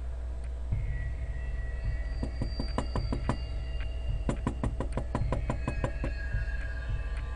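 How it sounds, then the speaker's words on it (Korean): A glass door is knocked on in several quick bursts of sharp raps, each burst separated by short pauses, over a steady low hum with no voices. "유리문을 두드려보기도 했지만"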